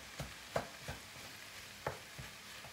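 Minced meat frying in a pan over medium heat with onions, a faint steady sizzle under soft, regular scraping knocks as it is stirred.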